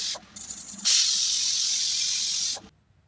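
Steam hisses loudly and steadily out of a pressure cooker used for an Andhra-style mutton curry, after a few brief bursts, then stops abruptly into silence.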